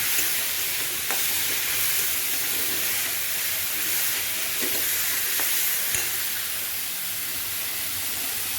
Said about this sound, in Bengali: মুগ ডাল তো একটু না ভাজলে হয় না, লাল করে ভাজলে ভালো লাগবে